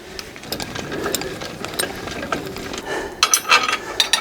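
Clicking and ratcheting come from the jockey wheel of an ARK XO750 as it is wound up by hand. The turns repeat irregularly at close range, ending with a few sharper metallic clinks.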